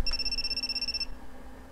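Electronic telephone ring from a video game: a steady two-tone trill lasting about a second, loud and close, cutting off abruptly and leaving low background hum.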